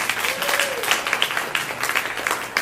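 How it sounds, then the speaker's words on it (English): An audience at a folk concert applauds with steady, dense clapping throughout, moderately loud and close, with a brief faint voice-like tone early on. "I worry when they clap before you've done anything"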